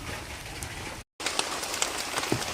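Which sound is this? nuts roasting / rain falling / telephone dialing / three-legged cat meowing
rain falling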